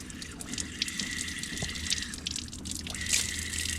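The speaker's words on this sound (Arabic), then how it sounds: "كاين واحد السقايه هنايا فيها الماء ديال الشريب" Water runs and drips steadily at an outdoor drinking fountain in the countryside of the Azrarak foothills near Agadir, a continuous trickle with light splashes and dripping, moderately close, no talking.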